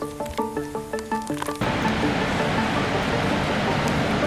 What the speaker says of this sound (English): We are approaching Gulfoss and you can hear the waterfall roaring.